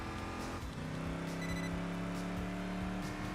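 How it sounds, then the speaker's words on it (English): Double Hurricane V8 engine of a car in the Enthusia Professional Racing video game, a steady loud engine drone with rising harmonic tones as it revs and accelerates, continuous throughout with no talking. "That sound, that beautiful double Hurricane V8."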